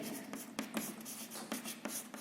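Chalk or marker writing on a board in a physics class, heard as a run of scratchy strokes and taps in an irregular rhythm, close and moderately loud, with no talking.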